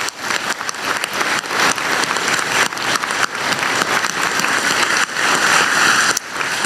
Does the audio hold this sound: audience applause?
yes